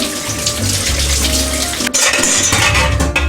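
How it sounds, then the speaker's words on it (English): Celery rinsed under a running faucet in a strainer, giving a steady, close hiss of flowing water with spattering that shifts midway, alone without talk. "Take your strainer. Wash your celery."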